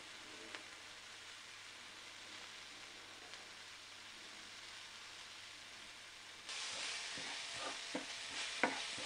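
Onions sautéing in a pan for potato bonda make a soft, low sizzle that turns louder and brighter near the end, with a few stirring scrapes and no voices.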